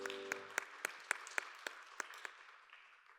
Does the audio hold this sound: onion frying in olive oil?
no